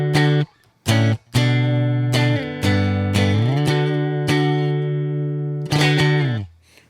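Electric guitar running through a Prism pedal in an amp-less pedalboard setup, with a run of bright picked notes and chords that slide and sustain, loud and close, alone without talking.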